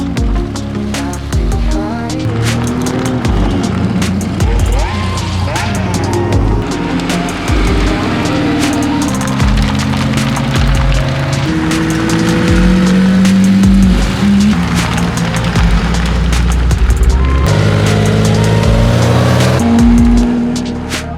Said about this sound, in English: Got the engine started.